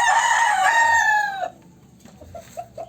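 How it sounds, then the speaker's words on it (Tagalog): A gamecock lets out one long, loud crow nearby, then it cuts off and soft clucking and scattered chicken calls follow. "Mga manok yan ni Tolpo."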